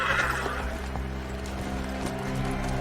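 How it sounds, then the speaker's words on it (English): A horse neighs loudly in a drawn-out whinny over a dense background of crowd and ambient noise at a medieval-style joust, with faint hoof clatter beneath and no talk. "God, they got a horse in heat."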